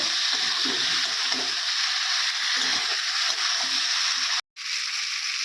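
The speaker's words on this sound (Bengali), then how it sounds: "এবারে দিয়ে দেবো লবণ, ভালো করে কষাবো" Green cauliflower sautéing with salt in a pan, a loud continuous sizzle with scraping stirs underneath, broken by a brief cutoff near the end.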